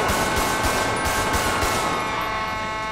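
In GTA 5 with the LSPDFR police mod, rapid automatic gunfire rattles out in a dense burst of close shots. It thins and fades after about two seconds, leaving a ringing hiss and no speech.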